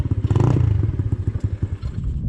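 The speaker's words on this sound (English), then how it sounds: "I mean, it is idling a little low." A 50cc GY6 scooter engine idles low and a little roughly close by, its steady thumping putter loud and alone with a light mechanical clatter.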